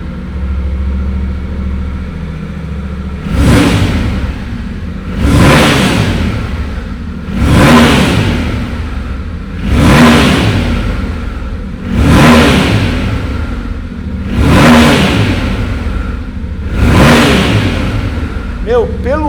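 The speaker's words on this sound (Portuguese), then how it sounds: "Agora se liga o ronco dessa moto com seu escapamento original." A Yamaha Ténéré motorcycle with its original exhaust is revved repeatedly, about seven sharp, loud throttle blips spaced a couple of seconds apart over a steady idle, recorded up close.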